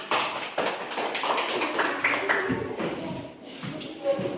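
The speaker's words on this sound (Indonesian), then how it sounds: "tepuk tangan buat kelompok" Fifth-grade primary school classroom in Indonesia clapping for a student group, a patter of scattered hand claps and taps from children nearby, fairly soft, tapering off toward the end.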